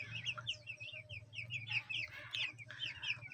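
Broiler chickens four days old cluck and chirp steadily in overlapping bursts, close and fairly loud, with a low steady hum in the background of the poultry house.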